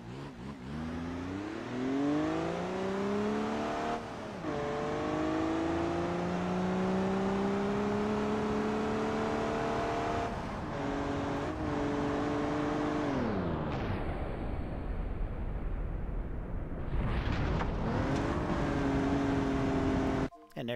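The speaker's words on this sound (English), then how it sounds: "now I'm going to set this vehicle to" Car engines in the BeamNG driving game as one vehicle chases another: a continuous synthetic engine drone with rising and falling revs, pitch sweeping up through gear changes and dropping sharply, loud and uninterrupted.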